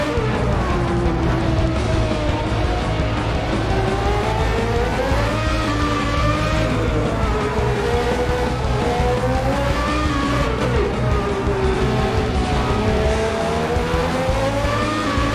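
Race cars of a 1994 Formula One season howl around the Pacific circuit in Assetto Corsa, engines continuously loud with rising and falling pitch through gear changes, no voices.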